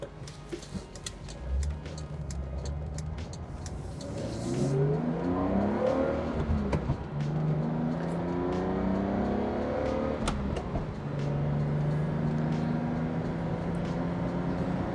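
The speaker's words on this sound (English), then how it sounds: "you want to get a little bit of revs out of the motor before changing gears" A manual Mercedes 280SL (R107) engine revs up repeatedly, climbing in pitch and dropping as it shifts through the gears, steady and fairly close.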